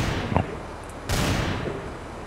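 Gunfire in Counter-Strike: a sharp nearby shot early on, then a louder blast followed by a burst of rattling echo.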